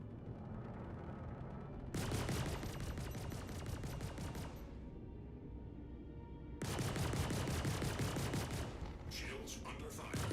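Bursts of rapid gunfire pound a ship's shields in a Star Citizen space battle, two loud sustained volleys with a quieter stretch between and a voice talking faintly underneath.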